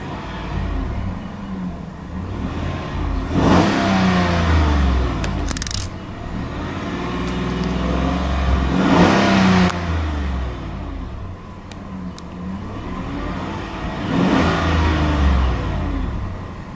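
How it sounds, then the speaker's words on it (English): A 2015 GMC Yukon SLT engine revs three times toward its rev limiter, each run swelling to a roaring peak and dropping back to a steady idle, heard up close without talk. "It does have a rev limiter around 3000 RPM."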